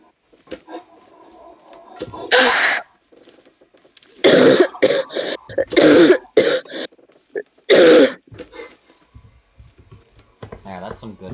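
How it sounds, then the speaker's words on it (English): Several loud, close coughs from a woman come in bursts, a single one near the start and a tight cluster of harsh coughs through the middle, with a voice and faint clicking in the gaps, in a home setting during a tank-building game stream. "What, female coughing?"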